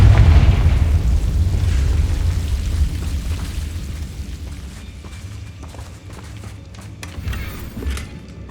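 A Confringo explosion spell in the video game Hogwarts Legacy bursts with a loud, deep boom that rumbles and slowly fades into crackling debris and ambient noise.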